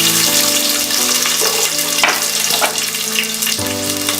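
A bay leaf frying in sesame oil in a pan, a loud continuous crackling sizzle with occasional sharper pops and faint stirring, a steady hum underneath, no talking.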